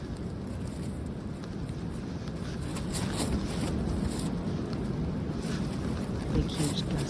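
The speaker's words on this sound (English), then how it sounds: "Big, huge gusts of wind." Strong wind gusts rush through a night camp on the Appalachian Trail with a tarp flapping, a steady broadband roar that swells louder partway through, close to the microphone and continuous.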